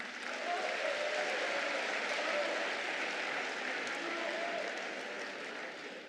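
Large party congress crowd applauding and cheering, a dense, loud and steady wash of clapping and voices that holds throughout and tapers slightly at the end.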